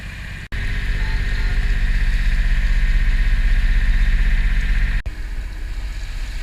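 A small sailboat motors out of Santa Barbara Harbor at about 6.5 knots, its engine giving a loud, steady low drone. The sound cuts out briefly near the start and again near the end.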